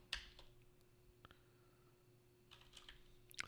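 Scattered keystrokes on a computer keyboard during live programming work, quiet and close, a few isolated taps then a short burst of clicks near the end.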